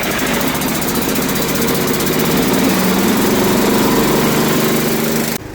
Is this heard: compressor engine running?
yes